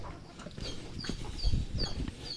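Mother hens on a small backyard farm cluck in short, repeated bursts, several birds close by against a light outdoor background.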